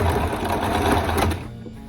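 A sewing machine top stitching a fabric scrunchie, a close, loud, rapid run of needle strokes that stops after about a second and a half.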